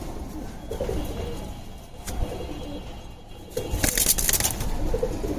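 Black-necked pigeons kept at home coo softly at close range. A brief flutter or scrape stands out near the end, and no one is talking.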